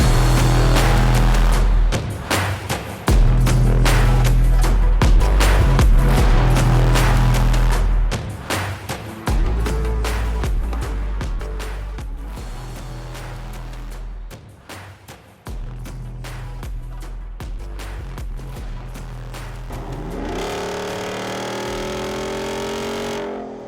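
A Jeep 392 engine growls and revs loudly while driving, with repeated surges and shifts, then dropping to a steadier drone near the end.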